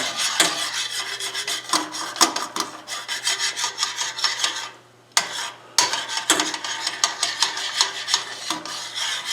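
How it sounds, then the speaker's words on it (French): Beef broth deglazing a hot frying pan while a utensil scrapes the cooking sugars from the bottom, with steady rhythmic rasping and sizzling strokes and a brief pause midway. "Une tasse ou plus de mon bouillon de bœuf dans mon poêlon pour déglacer tous les sucres de cuisson"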